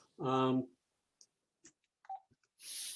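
A house telephone rings once, loud and close, followed by scattered faint clicks and handling noises and a brief hiss at the end.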